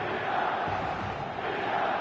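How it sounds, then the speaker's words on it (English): Stadium crowd in an eFootball match: a steady, moderately loud roar of many voices with faint chanting swells, continuous for two seconds with no commentary. "The stadium is full of noise and energy."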